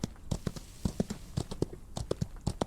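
A horse's hooves in a Western video game set in the Old West, a quick, uneven clip-clop of distinct hoofbeats at moderate volume, heard alone without speech.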